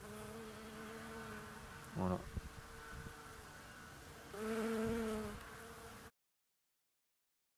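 A steady buzz of many bees hums throughout, swelling as individual insects fly close, with a short spoken word partway through.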